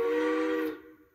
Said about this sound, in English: I want to get the whistle from this engine.